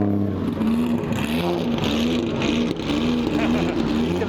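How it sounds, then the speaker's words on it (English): A noisy car pulls up at Goodwood Speedweek, its engine a loud, steady, buzzing drone that sits close by and holds throughout without easing off. "halfway through an interview, a noisy car turns up."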